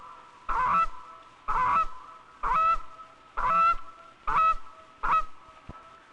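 Canada geese honking, six loud, clear nasal honks spaced about a second apart against a quiet background.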